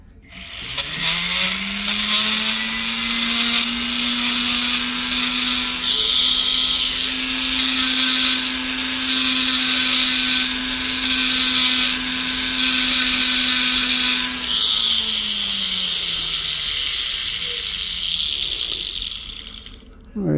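Rotary tool fitted with a silicone polishing wheel smoothing the inside of a wide-shank ring being resized, a high steady whine that spins up, holds with gritty grinding against the metal, then winds down near the end.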